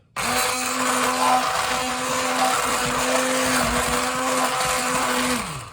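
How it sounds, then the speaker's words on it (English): A hand blender whirs continuously through a bulgogi marinade of sauce, a loud, steady motor drone with a sustained pitch that dips briefly a few times before cutting off at the end. "Just got a hand blender for this, so I'm just going to blend this up."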